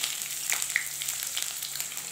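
Onion sizzles and crackles in hot oil, a tempering for fresh green pea dal, with a steady close-up frying hiss and scattered small pops.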